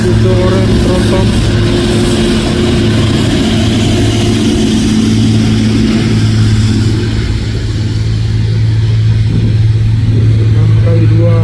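The heavy diesel engine of an orange Mitsubishi Fuso tronton truck drones loud and close for several seconds on a hill climb, a steady low rumble with slight shifts in pitch, with a voice talking over it.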